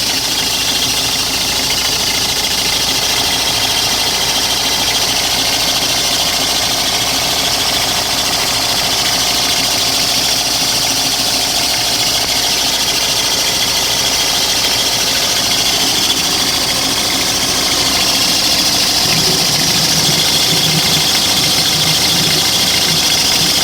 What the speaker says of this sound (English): We started the engine.